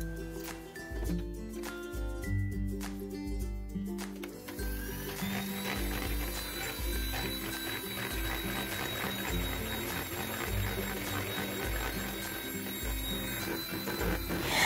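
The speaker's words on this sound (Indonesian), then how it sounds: "Lalu mixer juga hingga menjadi mengembang dan kental." An electric mixer whips palm sugar ice cream batter: a few seconds of clattering, then a steady high motor whine that runs continuously and fairly quietly to the end.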